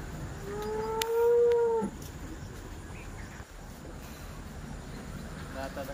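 A dairy cow on a farm gives a single clear, drawn-out moo of nearly a second, nearby, over steady farmyard background noise.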